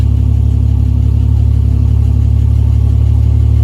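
A loud, steady low rumble of a Triumph TR6 engine idling with a throaty exhaust drone, constant and close throughout.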